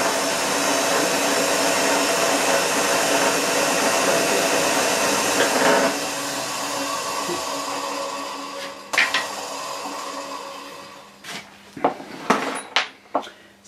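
Drill press motor running with a steady whirring drone that winds down, followed by scattered metallic clinks, clunks and knocks as parts are handled nearby.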